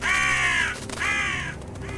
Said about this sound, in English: Outside, Covey the crow was hoarsely cawing and ruffling his feathers as if it were trying to warn them